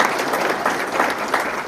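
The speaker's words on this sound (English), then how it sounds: "So how about a round of applause for" A brief burst of applause from the audience at a county mayoral forum, dense clapping with a few louder swells.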